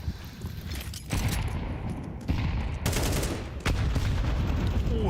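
Counter-Strike grenade blasts and rapid gunfire from a Major tournament match, with dense crackling bursts and heavy booms stacking in quick succession, loud and close, with a few sharp impacts cutting through.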